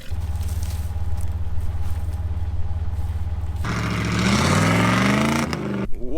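Off-road truck engine revving while mudding, a steady low rumble that surges loud into rising, climbing revs near the end, close and alone without talk.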